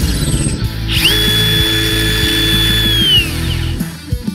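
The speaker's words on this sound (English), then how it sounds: "as soon as you remove your hand from the angle grinder, it immediately stops" A Hilti Nuron cordless angle grinder spins up with a loud, steady high-pitched whine. After about two seconds it cuts out abruptly and the whine winds down.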